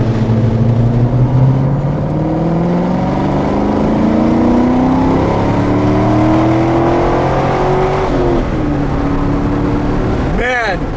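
A 2002 Pontiac Firebird Trans Am V8 pulls hard in second gear, its engine note climbing steadily and loud from inside the car, with a brief shift-like dip near the end.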